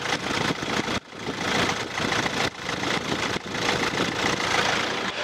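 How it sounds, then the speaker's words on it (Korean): A diesel car engine idling up close, a steady broadband clatter with a couple of brief dips in level. "엔진 소리 한번 들어볼게요."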